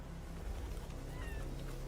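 A cat in a video game meows faintly and briefly over a dense, noisy game soundscape.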